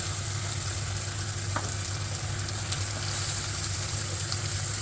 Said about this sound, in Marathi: मॅरिनेट केलेले मटण आता आपण त्यात घालूया.